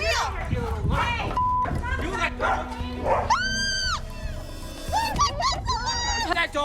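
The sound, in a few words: dog barking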